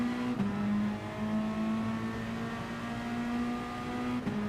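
Bugatti Veyron engine in GT Sport, a steady high-revving drone with one gear change near the start and another near the end, loud and close with no talk.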